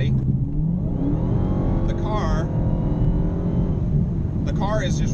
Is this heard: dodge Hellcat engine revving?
yes